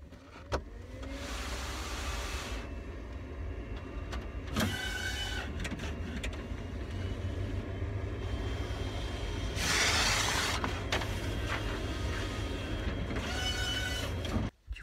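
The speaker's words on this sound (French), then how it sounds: "j'ai fait tourner le traceur pour imprimer mes plans" A large-format plotter printer runs for about fifteen seconds, printing and then cutting plans: a steady mechanical whir of the carriage and feed motor with bursts of louder motor activity, close and continuous, with no talking.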